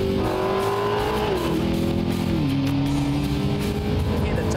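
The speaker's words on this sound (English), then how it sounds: "You hear the turbos kicking in." A classic car's twin-turbo engine roars steadily, revving and shifting up through gears with rising and dropping pitch, loud and close, with a turbo whine layered in.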